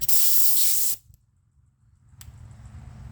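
A small air compressor blasts air into the spark plug hole of a Vortec 350 engine, giving a loud hiss for about a second that cuts off abruptly, then a brief faint puff and low background rumble.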